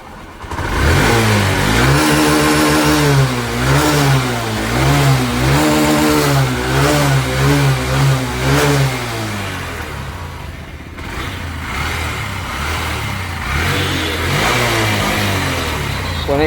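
Honda Shine BS6 motorcycle engine fired up after an oil change, revving loudly and steadily in repeated rising and falling surges, then settling into a rougher idle near the end.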